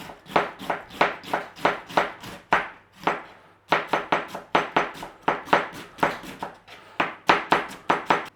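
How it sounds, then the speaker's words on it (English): Knife slicing red cabbage into thin shreds on a board, a steady run of close, crisp chopping strokes with one short pause partway through. "cabbage thin slice, nice and steady away, just nice and thin slice"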